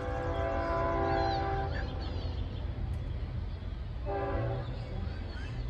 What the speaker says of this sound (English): There comes the train